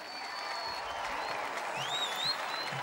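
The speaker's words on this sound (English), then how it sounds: "accepting the applause" Tennis crowd applauding Jo-Wilfried Tsonga at the 2012 Qatar Open, a dense, steady wash of clapping from a large arena audience, with a few whistles cutting through near the end.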